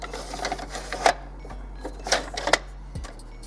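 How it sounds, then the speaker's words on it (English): A Canon Pixma MG2950 printer reads a newly fitted ink cartridge, giving a few soft mechanical clicks and brief whirring bursts over a low steady hum, close by and fairly quiet. "it'll take a second for your printer to read the cartridge"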